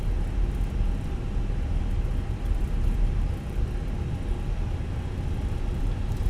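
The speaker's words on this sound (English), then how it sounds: "the engines ripping and roaring" A United airliner's engines roar during takeoff in a flight simulator game, producing a dense, loud, steady rumble with heavy low-end and broad hiss that barely changes over several seconds.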